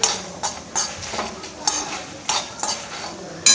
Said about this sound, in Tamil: இது கொஞ்சம் மெதுவாக தான் வறுக்கணும்